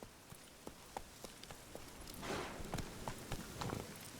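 Hooves of a horse in Witcher 3, clip-clopping in a steady rhythm that quickens toward a run, fairly close and moderately loud, with the game's ambient wash underneath and no talk.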